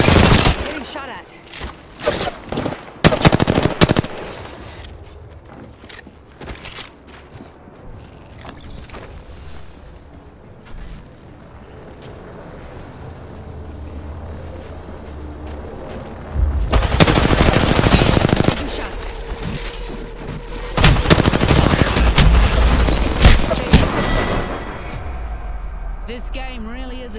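Bursts of automatic gunfire in the battle royale shooter Apex Legends, loud and close at the start, then a long stretch of quieter distant fire and a voice, before two more heavy, sustained bursts.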